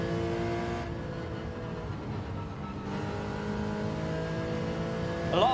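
A Porsche Cayman race car in Gran Turismo 7 revs its engine, with harmonic tones rising and falling. There is a brief drop in the drone partway through, and a sharper high whine near the end.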